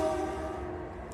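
A train horn blares a sustained, loud tonal blast that fades slightly over about a second, heard alone above low rumbling.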